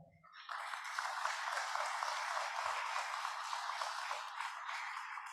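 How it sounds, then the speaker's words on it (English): After a brief quiet start, a room breaks into sustained applause, many people clapping at a steady level until the end. "I also want to get a quick round of applause for all of our teachers"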